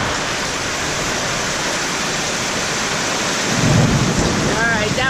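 Thunder rumbles through a heavy rainstorm, with a dense, loud wash of rain pouring steadily and a deeper rolling boom swelling near the end.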